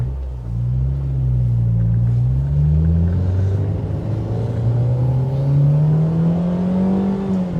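A JDM ITR B18C-swapped 2000 Honda Civic Si engine rumbles steadily and close up, its deep note slowly drifting higher and lower with no voices over it.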